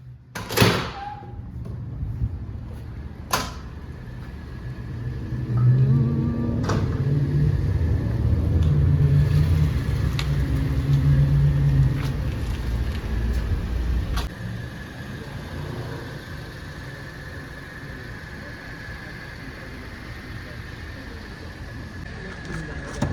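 Car driving along a road on a quiet morning with little traffic, a steady low engine and road rumble running throughout, swelling in the middle, with a few sharp clunks near the start.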